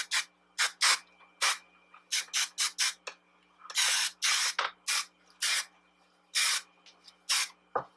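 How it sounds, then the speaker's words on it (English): Hairspray hissing onto spiral-curled hair in a rapid series of short, close bursts of varying length, some clustered together, with quiet gaps between them. "with a little bit more hairspray."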